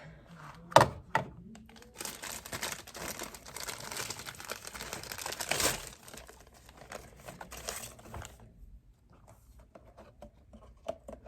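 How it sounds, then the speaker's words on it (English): Plastic wrapping is peeled off an aquarium filter cartridge, making several seconds of close, crinkly rustling with a few handling thumps before it fades to quieter fiddling. "So, inside we will remove the plastic."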